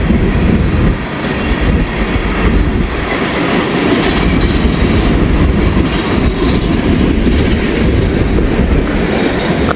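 A freight train with a distributed power (DPU) locomotive rolls past at close range, a loud, continuous rumble of wheels and rail noise with faint clickety-clack and brief squeals throughout.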